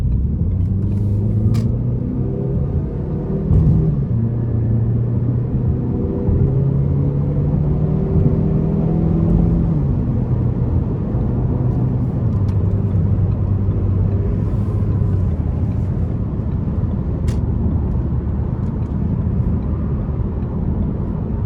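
A 2016 Ford Focus SE heard from inside as it accelerates up to speed, with a loud, steady engine drone that climbs in pitch through several gear shifts over continuous road rumble.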